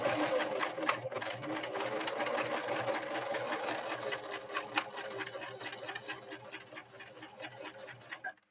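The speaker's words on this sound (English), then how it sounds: "we're sewing cotton and all the other materials we're sewing with this denim needle" A Husqvarna Model 145 sewing machine stitches cotton through a denim needle, a steady close mechanical whir with fast rhythmic ticking that runs for several seconds before slowing at the end.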